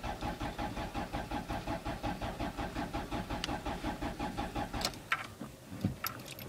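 A 1988 Chevy Nova engine cranks slowly on a low battery, an even, labored rhythmic churning that runs for several seconds close by, then stops, followed by a few clicks and knocks.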